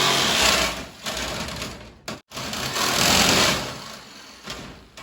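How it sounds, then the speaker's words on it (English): A Black & Decker jigsaw with a dull wood blade cuts through wood, a loud, close, rapid reciprocating buzz that surges and eases, stopping briefly before resuming. "I'm just going to use the jigsaw, good old Black & Decker, it's the best brand out there, with a dull wood blade"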